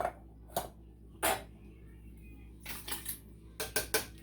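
Cooking vegetable soup for canning, with tomatoes going into the pot: a few sharp metallic clinks and knocks of a utensil against the pot, spaced apart and fairly quiet, with a low background hum.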